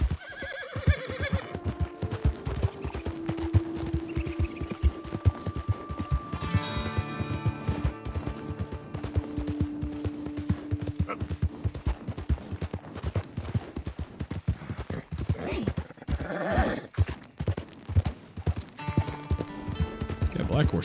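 Horses in Red Dead Redemption 2 clip-clop with hooves and give whinnies and neighs, mixed with game effects and someone talking at moderate distance.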